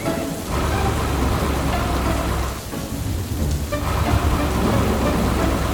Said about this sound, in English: They drove into the rainy forest, but everything was dark and wet.